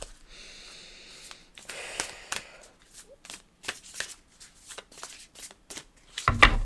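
A deck of reading cards is shuffled by hand: a long run of close, crisp riffling and flicking, with bursts of card slaps at an uneven rhythm and a louder thump at the very end.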